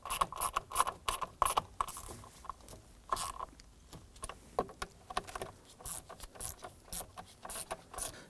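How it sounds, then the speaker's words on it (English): Ratchet snugging down screws on the combination switch of a 2015-2020 Ford F-150, giving rapid close clicking bursts in a stop-start rhythm with no talk. "use our ratchet to snug them down."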